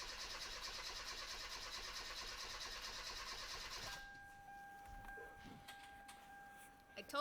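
Hyundai Veloster Turbo engine cranking without catching, a steady whirring crank that runs for about four seconds and then stops, leaving a quiet garage with faint clicks and a brief clunk at the end.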